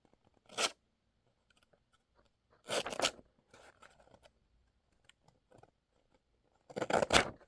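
A small Hyper Tough utility knife makes three short, crisp cutting strokes, each a brief scraping crunch, with faint handling ticks in the quiet gaps between them, close and without talking.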